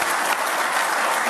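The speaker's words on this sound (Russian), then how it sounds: "Поэтому аплодисменты вот" A brief burst of dense crowd applause at a gathering about national construction projects, loud and continuous clapping for just over a second.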